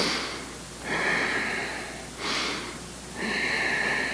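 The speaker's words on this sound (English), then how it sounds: "So remember, I exhale down." Audible exhales during squats with a bungee, three breathy rushes of air roughly a second apart with quiet gaps between, close and moderately soft with nothing else present.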